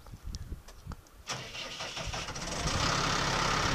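A 2017 New Holland TS6.120 tractor engine is heard being cranked, with a short stretch of starter whirring before the diesel catches and settles into a steady, loud, close idle.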